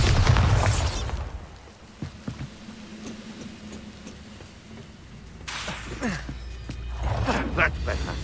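A Bombarda blasting spell in Hogwarts Legacy, with a loud explosive burst at the start and another crackling blast later, separated by quieter ambience and faint talk.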